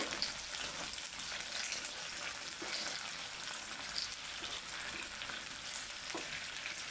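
Grape pickle cooking in a pan, stirred as it sizzles: a steady, fairly faint frying hiss runs throughout, with soft scraping stirs now and then and no voices.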